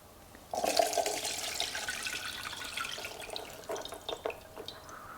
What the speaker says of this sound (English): So first we're going to drain our cashews.